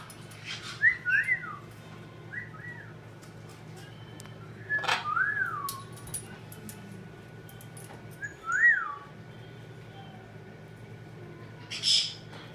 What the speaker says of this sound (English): Sometimes when we do that, when we whistle, he'll squeak really, really loud.